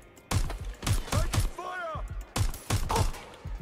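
Rapid bursts of gunfire from the Watch Dogs Legion video game, several close, punchy volleys in quick succession with a short pause, while a person talks over them.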